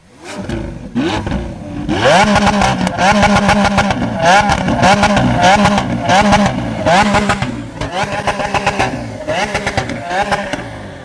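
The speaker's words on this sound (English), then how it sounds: "Well, maybe we get this beautiful V12 sound." A V12 exotic sports car at a motorsports park fires up and revs hard, a loud close run of rising and falling blips with a brief pause before a sustained burst of repeated revs.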